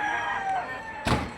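Chickens from Liliw, Laguna at a market, a close clucking call followed by a sharp thump or slam near the end.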